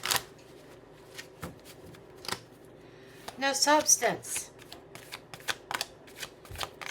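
Tarot cards being shuffled in a brisk, close riffle lasting about a second, set among sparse taps and handling noises while a person talks intermittently.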